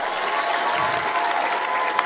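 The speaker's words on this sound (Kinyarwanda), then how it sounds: "Ariko mana sabiye Imana amashyi muri riteraniro." Congregation applause at an evangelical church gathering, a steady wash of many hands clapping with crowd murmur and light cheering throughout.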